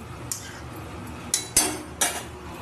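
A lid goes onto a pot of thin fish curry with a few quick metallic clinks, one short tap and then three brighter knocks, close and fairly quiet, with a low room hum behind and nobody speaking.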